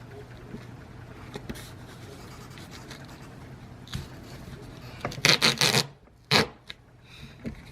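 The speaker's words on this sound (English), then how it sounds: "And here I like to take my bone folder." A bone folder rubs and creases paper, a soft continuous scraping close by that ends in a few louder, sharp swipes and rustles.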